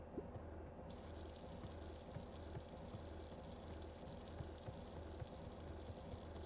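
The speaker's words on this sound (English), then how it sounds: "I can hear the faucet" Faucet water runs steadily in the video game Beacon Pines, a faint continuous gush sitting low in the mix without pause.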